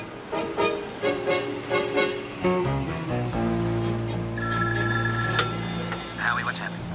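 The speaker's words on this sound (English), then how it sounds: "Now let's get to the phone and call Howie" Telephone ringing in a TV drama, a repeated bell-like ring in regular bursts over a low engine rumble.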